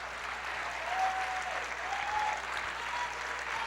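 Congregation clapping in a church service, steady and dense throughout, with a faint sustained vocal tone drifting over it.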